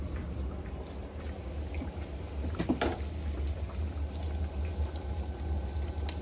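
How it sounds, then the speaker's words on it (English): Water is poured into a pot to steam rice while ice camping, a faint, continuous splashing pour over a low background rumble. "Water, okay. To steam the rice, okay."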